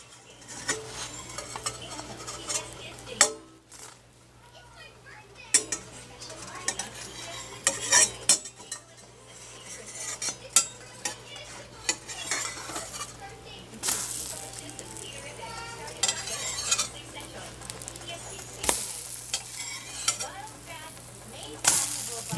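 Chocolate chip pancakes cook in a stainless steel pan, a soft sizzle under repeated clinks and scrapes of a utensil against the metal over a long stretch.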